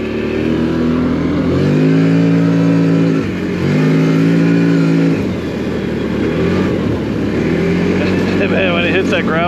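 CFMOTO Cforce 800 Touring ATV, a 2025 model, accelerating on gravel: a loud, close engine rising and falling through two strong revving surges, then a steady drone with someone talking over it.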